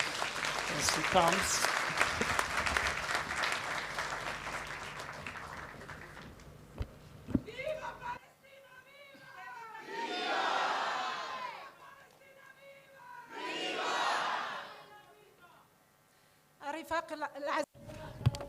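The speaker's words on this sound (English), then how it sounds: "Can we give a round of an applause as she comes?" An audience at a conference opening panel applauds loudly for several seconds as a speaker comes up. The clapping dies away into quieter room sound with a couple of swelling murmurs, and a few brief sharp noises come near the end.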